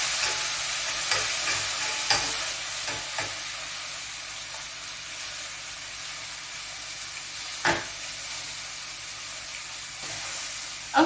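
Chicken pieces sizzle steadily in a frying pan for Chicken Marsala, a constant broadband fry with a few sharp clicks and scrapes as pieces are flipped and turned, one louder knock near the end.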